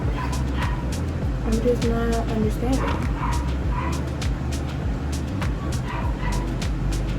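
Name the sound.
dogs barking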